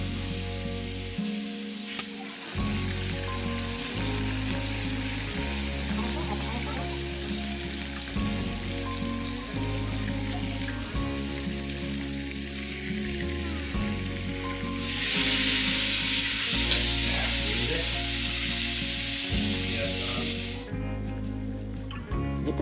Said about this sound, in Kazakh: етіміз өте жақсы қызған майда жақсылап жан-жағынан қуырылып жатыр